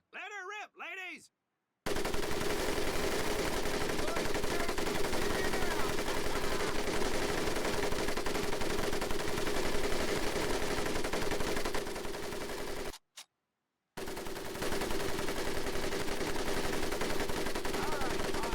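Sustained machine gun fire in Medal of Honor Pacific Assault, a dense, loud continuous burst running most of the clip, broken by one short pause before firing resumes; a brief voice sounds at the very start.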